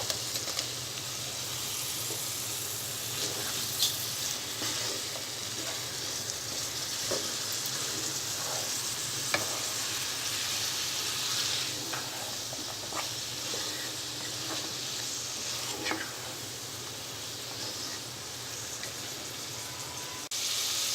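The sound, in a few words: carrot and cauliflower pieces frying with tomato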